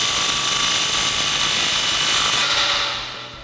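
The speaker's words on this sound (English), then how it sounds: "So now we're going to go back and tighten up all our clamps" A power tool whirs steadily while tightening exhaust pipe clamps on a 2009-2018 RAM 1500 5.7L dual exhaust system, loud and continuous, then winding down at the end.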